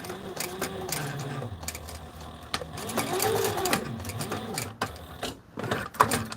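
A Sailrite sewing machine stitches a flight suit in short mechanical bursts, its motor whirring and needle thumping rhythmically up close with brief pauses between runs.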